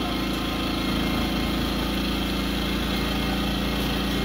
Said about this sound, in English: Got the generator out here.